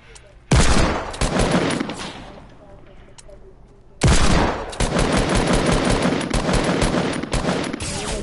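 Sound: gunfire in the video game Fortnite

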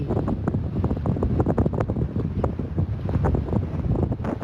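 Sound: racing sailboat sailing at high speed in wind

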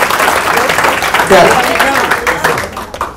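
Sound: audience applause

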